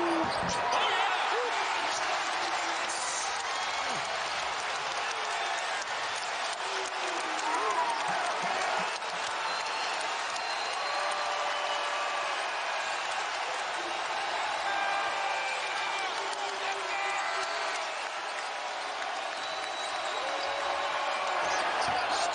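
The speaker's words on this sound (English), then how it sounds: "can't stop the crowd noise" A raucous crowd roars continuously through an NCAA basketball game between Butler and UConn in the arena, loud and sustained, while commentators talk underneath it.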